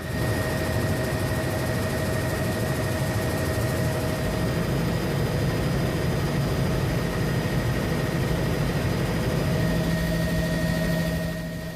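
Search and rescue helicopter deployed over the waters of Sarmi, Papua, giving a steady, loud engine drone with a constant tonal whine throughout, no talking.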